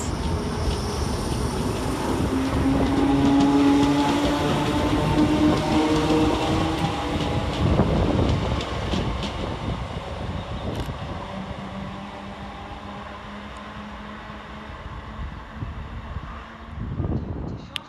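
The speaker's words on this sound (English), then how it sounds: "Whilst going the other way, running 5 minutes late, is 319378, working the 1324 Northern service of Wigan North Western to Liverpool Lime Street." A Northern Class 319 electric train, unit 319378, passes Huyton station. A loud, close rolling rumble with wheel clatter and a rising whine at the start slowly fades as the train moves off, with wind buffeting the microphone.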